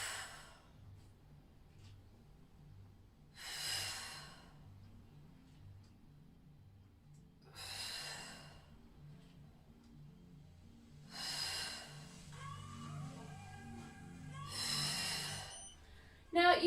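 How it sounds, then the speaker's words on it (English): Five loud, forceful exhaling breaths mark each rise of a home lower-body HIIT workout, spaced a few seconds apart, close to the mic over a quiet low hum. "I'm just breathing out loudly so you can hear that you should breathe out on the way up."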